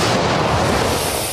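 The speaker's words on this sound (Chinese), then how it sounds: "用苏联自走炮先对着俄军位置开轰" A Soviet-made self-propelled gun fires toward Russian positions on the Bakhmut front, a single heavy, loud blast with a rumbling roar that fills the whole short moment.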